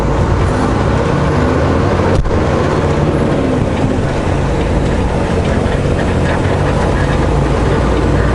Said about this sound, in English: So that's at least 6 helicopters then.